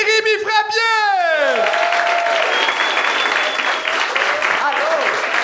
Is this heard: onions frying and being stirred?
no